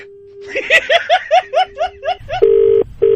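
Telephone line sounds after a call is hung up: a steady dial tone, a rapid string of about nine keypad dialing beeps, then two longer beeping tones, fairly loud and close with no talk over them.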